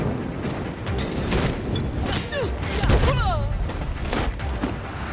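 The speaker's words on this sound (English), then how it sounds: "Enjoy the fireworks." Muffled booms and bursts of gunfire-like blasts from the video game Gotham Knights, mixed with whooshing effects and a voice talking over them.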